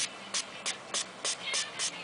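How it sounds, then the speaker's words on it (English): A hand-pumped spray bottle misting onto a cotton swab: seven short, crisp hissing bursts in a steady rhythm, close and fairly quiet. "Let me just find where I put that spray bottle from earlier."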